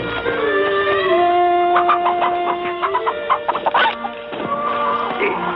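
Chickens cluck and squawk close by on a western ranch, a busy run of overlapping calls with sharp bursts midway and no talk.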